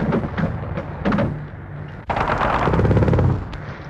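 Loud bursts of machine-gun fire and gunshots in a 1946 war film as recce squadron jeeps racing for a bridge are shot up, rapid rattling volleys, a pause, then a sustained heavy barrage.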